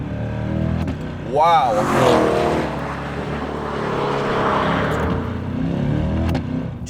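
C8 Corvette Z51 with a Tremec 8-speed dual-clutch gearbox accelerating hard, a loud engine note climbing through quick upshifts then settling into a sustained roar, with a short exclaimed voice and talk over it.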